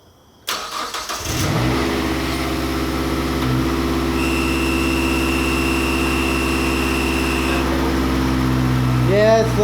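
A Mazdaspeed 3 engine fitted with an Injen cold air intake starts up and settles into a loud, steady idle with a high whine layered on top, then rises slightly toward the end as the revs pick up. The engine runs close and continuous.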